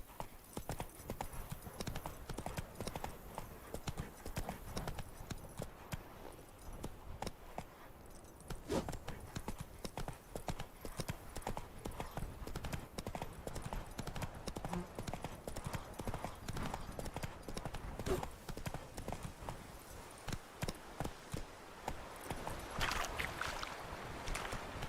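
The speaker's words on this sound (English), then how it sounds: "Run, Roach" A horse galloping in The Witcher 3, continuous rapid hoofbeats thudding along at a steady pace for the whole stretch, moderately loud, with wind and faint ambient game sound behind it.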